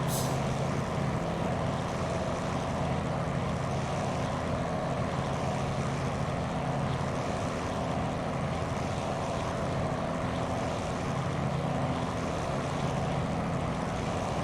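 A P-40F Warhawk propeller plane climbs after takeoff in a flight simulator, its engine a steady, loud, continuous drone with no break.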